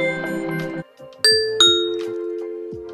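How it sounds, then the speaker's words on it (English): A Ring doorbell chimes in a clear two-tone ding-dong, ringing out and fading, preceded by a brief melodic chime pattern. "You can also choose different doorbell sounds."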